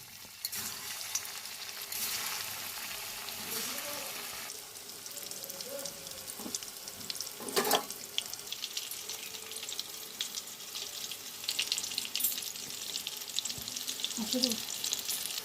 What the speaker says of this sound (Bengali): এবার আমরা তেলের মধ্যে ছাড়বো। তেলের মধ্যে ছাড়ছি একে একে।